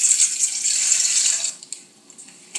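Two cups of warm water for focaccia bread dough pour steadily into a bowl for about a second and a half, close and fairly loud, then trail off into a few faint drips.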